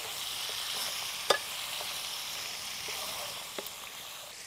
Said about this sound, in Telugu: ఇదంతా మంచిగా ముక్కగా పట్టించుకొని ఫ్రై చేసుకోవాలి